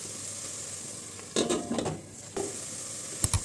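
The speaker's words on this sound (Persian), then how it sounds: "یک مقداری هم با این ادویجات میذارم تفت بخوره و بوی خامی زردچوبه گرفته بشه" Spices with paprika and turmeric sauté in a pan, a soft steady sizzle broken by a few bursts of stirring and scraping against the pan, ending with a sharp utensil clink.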